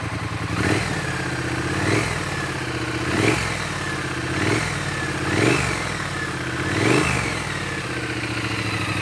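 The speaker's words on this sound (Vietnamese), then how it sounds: "bây giờ thì mình sẽ nổ máy xe này lên. Đó, đây là cái âm thanh Bosin của xe" A 2023 Triumph Speed Twin 900 motorcycle engine idles with a steady low rumble, blipped up about five times in evenly spaced revs before settling back each time.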